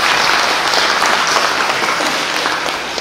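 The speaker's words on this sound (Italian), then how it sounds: "un applauso" A crowd gives loud, dense applause that continues without a break and eases slightly at the end.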